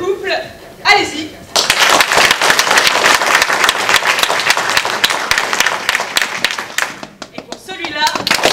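Audience applause used to vote at a 2018 improvisation show, dense loud clapping from a crowd that swells and then tapers off, with a voice talking briefly before and after.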